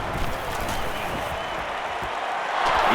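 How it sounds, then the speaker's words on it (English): A stadium crowd in the NCAA Football 09 video game roars in a dense, steady wash of cheering and scattered claps that swells slightly near the end. "So this crowd is making their presence felt."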